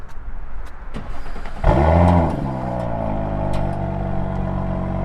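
A car engine cranks and catches with a loud roar, then settles into a steady, rumbling idle nearby.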